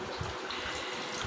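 Water pours and splashes steadily like a small waterfall into a small pool, a continuous close, soft rushing with no break.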